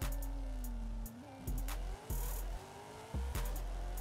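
A 1000HP '95 Chevrolet Corvette ZR-1 in Forza Horizon 5 on a drag run, engine screaming loud and close as it climbs through several gear shifts with brief drops in pitch, wheels spinning and tires squealing early.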